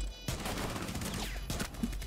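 Rapid bursts of pistol fire in a video game, a dense volley of sharp shots that starts abruptly and holds loud for about two seconds with no talking over it.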